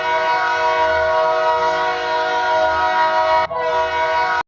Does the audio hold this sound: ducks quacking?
no